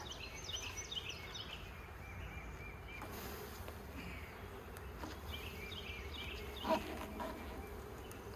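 Honey bees buzzing around an open hive box and nucleus colony, a soft continuous drone with individual bees zipping past close by, one brief louder pass near the end, faint bird calls in the background.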